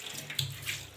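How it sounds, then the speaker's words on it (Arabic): Water is gently sprayed onto a kitchen marble surface, giving a soft, brief close-up hiss and splash with no voices. "بصي بقى رش ميه كده بالراحه"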